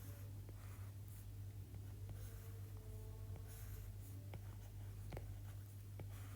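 Pen scratching across paper while a table is drawn by hand for an A-level pure maths equations problem, soft intermittent strokes over a steady low hum, no talking.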